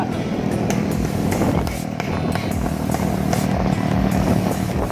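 A motorcycle engine drones steadily and loudly up close, with a rough, rumbling tone and slight shifts in pitch.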